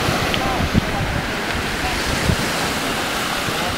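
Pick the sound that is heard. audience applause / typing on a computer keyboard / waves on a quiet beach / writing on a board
waves on a quiet beach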